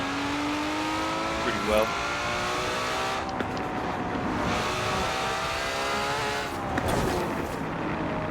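A drag-tuned Ferrari 599XX Evo in Forza Horizon 4 revs and accelerates loudly through rising gear sweeps, with brief shift breaks, while someone talks over the engine.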